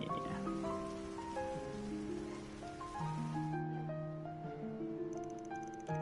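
Soft, steady rain hisses in the video game Trails Through Daybreak beneath sustained melodic background music, then thins out partway through while the music carries on.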